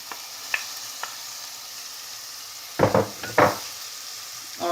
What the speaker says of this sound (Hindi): अब मैं इसमें गोभी फ्राई की डालती हूँ